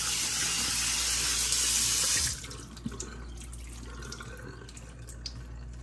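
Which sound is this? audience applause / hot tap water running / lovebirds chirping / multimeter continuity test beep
hot tap water running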